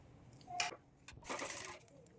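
A sewing machine stitches piping onto a blouse neckline in two short, quiet bursts with a brief pause between them, close by in a calm room.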